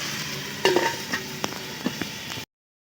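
Chicken, potato, ginger, garlic, onion and tomato are stir-fried together in a pan, with a continuous loud sizzle broken by several sharp scraping stirs before it cuts off.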